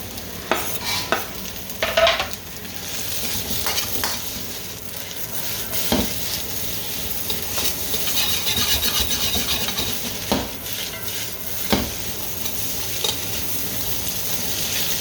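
Vegetables, onions and meat stir-fry in a pan for kitchen sink fried rice, a continuous soft sizzle broken by scraping and stirring strokes of a utensil against the pan, with no talking.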